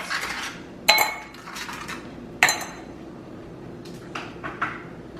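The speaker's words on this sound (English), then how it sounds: "I'm gonna do 4 small ice cubes" A few small ice cubes dropped into a cup for iced whipped coffee in a home kitchen, giving two sharp clinks among softer knocks and handling noises, no talk.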